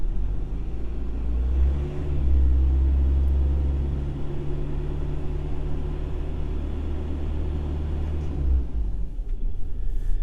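A car engine idles with a steady low rumble, then is revved up to a held higher drone for several seconds before settling back, heard close with no talking, during a battery charging check.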